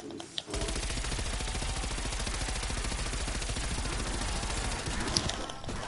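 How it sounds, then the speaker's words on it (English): Sustained rapid automatic gunfire from a video game, a dense continuous rattle of shots running almost the whole time after a short pause at the start, loud and close. "I'm just burning through ammo."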